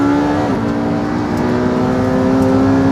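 A Porsche 918 and a Ducati 1199 Superleggera launching in a drag race, with a loud, sustained engine drone that climbs in pitch, a gear change early on, and heavy wind rumble.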